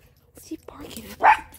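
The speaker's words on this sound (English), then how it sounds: "What's he barking at?" A dog barks once from a short distance, a sharp bark standing out over soft whispered voices and low background rumble.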